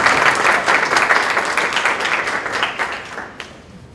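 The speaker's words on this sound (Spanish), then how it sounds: "Entonces, para él, un fuerte aplauso." A strong round of applause from an audience at a book talk at Centro León, dense clapping from a sizeable crowd that stays loud, then gradually thins and fades toward the end.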